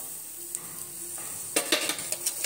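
Chopped onions sizzle and fry in a pan for a shevga masala, a steady hiss with sharper spoon-stirring scrapes near the end, close and fairly loud.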